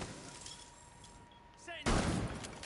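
A brief, loud burst of SMG gunfire erupts near the end in a Rainbow Six Siege match on the House map, after quieter game sounds.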